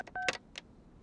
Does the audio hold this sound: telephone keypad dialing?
yes